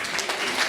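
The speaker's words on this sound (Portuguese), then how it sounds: "Você pode aplaudir bem forte?" Church congregation clapping loudly during a worship service, a brief dense burst of applause with no voices on top.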